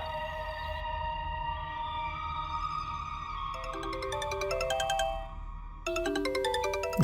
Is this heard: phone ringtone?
yes